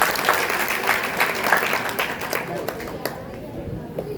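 Students at a higher secondary school in Indore clap together in a classroom, a brisk, dense round of applause that fades out toward the end.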